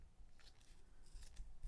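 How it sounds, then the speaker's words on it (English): Scissors snip through wedding glass decoration material in several quick, quiet cuts, faint and close, with no talking. "go get your scissors and go ahead and cut it right in the middle"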